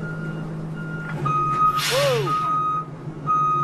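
A 19-ton truck backs up on the deck of an icebreaking multipurpose vessel, its reversing beeper sounding in steady repeated tones over engine hum. A loud air-brake hiss cuts in partway through, and a voice calls out briefly.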